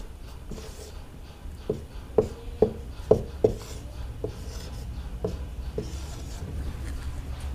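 Chalk or marker strokes on a board, a series of short taps and scratches clustered in the middle, fairly faint over a steady room hiss, with no talking.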